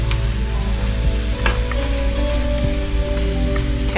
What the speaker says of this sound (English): let that saute away